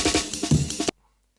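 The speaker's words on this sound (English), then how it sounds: "have a reverse snare going into a forward snare" Jungle production beat: a reversed snare slice swells up into a forward snare hit, with drum hits repeating in a short loop for under a second before cutting to silence.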